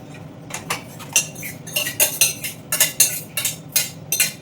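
Metal spoon scraping and clinking against a pot while cooked moong dal is scooped into another vessel, a string of sharp, close clanks and scrapes in an irregular rhythm with no talking.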